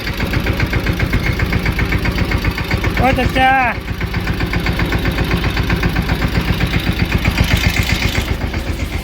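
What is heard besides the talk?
tractor engine running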